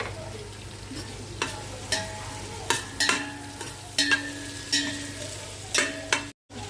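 Onions sizzle and fry to brown for a plain dum biryani while a spoon stirs and scrapes the pan with repeated sharp clinks, steady hiss underneath, close and moderately loud.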